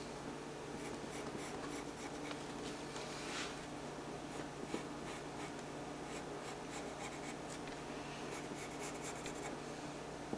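Pen drawing a curve on a graph during a trigonometry review, a faint, soft, continuous scratching of the tip across paper in a quiet room.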